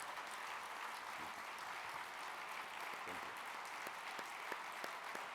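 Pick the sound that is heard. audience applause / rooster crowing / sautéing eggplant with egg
audience applause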